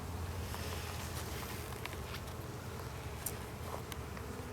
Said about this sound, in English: Wow, there's like 10 times as many bees in here now.